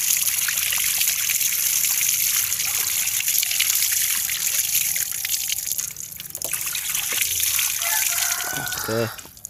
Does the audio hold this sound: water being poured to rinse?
yes